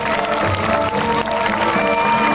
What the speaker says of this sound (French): Superbe, on peut l'applaudir très fort.